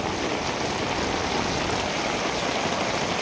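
A river in heavy flood rushes past at high level, the water now covering a utility pole and its wires; a dense, steady roar of turbulent water fills the scene, close and unbroken, with no voices.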